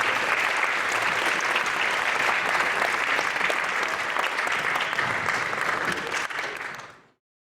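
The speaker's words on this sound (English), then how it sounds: "can we have a final round of applause for Professor Vanderwill?" A lecture audience at a Veritas Forum event on Christianity and science gives a final round of steady, even applause for a professor, cutting off abruptly after about seven seconds.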